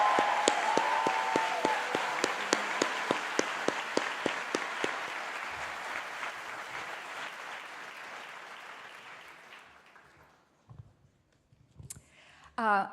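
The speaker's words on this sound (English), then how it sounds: "Can I please ask for a round of applause for our absolutely amazing order, Ella McDonald from the Fountain School." An audience at a university convocation for arts and social sciences applauds an orator. Loud, dense clapping slowly fades over about ten seconds into near silence, followed by a brief faint rustle at the end.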